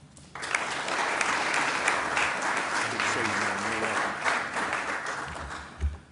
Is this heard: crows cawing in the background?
no